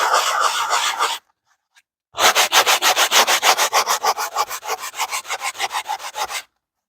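Hand sanding with rough 60 grit sandpaper for a collage piece: a short burst of rubbing, a pause, then a long run of quick rhythmic back-and-forth strokes, close and loud.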